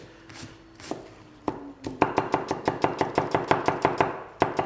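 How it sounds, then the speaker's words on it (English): A knife chops onions finely on a board. A few slower cuts come first, then a quick, even run of close, crisp knocks with no one talking. "chop your onions nice and fine"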